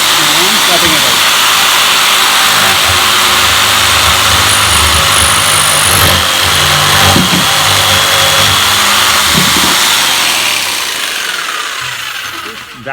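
A jigsaw cutting through wood for a backyard swing set, giving a loud, continuous buzzing saw whine with steady rasping that holds for most of the stretch and fades slightly at the end.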